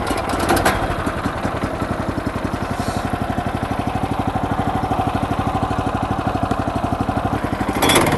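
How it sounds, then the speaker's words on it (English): The engine of a Tendotools TT660 sawmill starts and settles into a steady, fast idle, a close, loud rhythmic chugging with clattering that stays even throughout. "and then we're going to start the engine."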